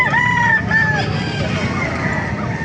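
Several roosters crow at a busy chicken market in Calumpit, Bulacan, their long calls overlapping above steady crowd murmur and talk, loud and close.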